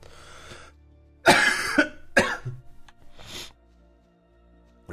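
A harsh coughing fit during a World of Warcraft session: several loud, racking coughs in quick bursts with short gaps between them, close to the microphone.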